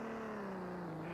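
Porsche sports car engine revving hard, a loud steady buzzing drone whose pitch falls slightly over a brief moment.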